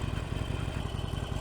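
2017 Harley-Davidson Sportster 1200 Custom motorcycle engine running, a close, loud, evenly pulsing low rumble throughout.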